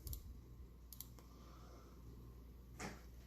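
A few sparse computer mouse clicks, quiet and close, spaced irregularly over a faint room hush.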